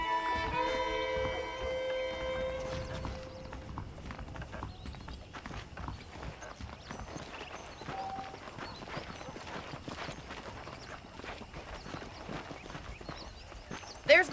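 Horse hooves in Red Dead Redemption clip-clop at a steady walking pace beneath a faint music bed, ending with a brief louder clatter.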